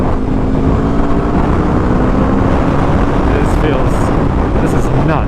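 A 2021 Aprilia RSV4 1100 motorcycle runs at about 6,000 RPM in third gear, its engine buried in a constant, loud rush of wind noise from riding at speed.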